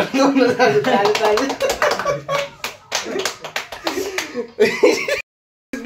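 A crowd at a community event in Nepal claps in uneven, lively bursts, close and loud, with voices mixed in, before cutting off abruptly near the end.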